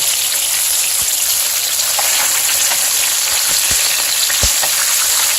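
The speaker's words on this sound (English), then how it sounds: "So now we're going to cook the salmon like this for like 4 to 6 minutes, and then we're going to flip it." Salmon fillet frying in oil in a pan gives a steady, loud sizzle and crackle, with a few sharper pops rising out of the constant hiss.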